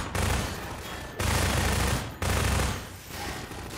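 Sustained automatic gunfire in Half-Life 2, three loud bursts of rapid shots separated by brief gaps, close and dominant with no talk.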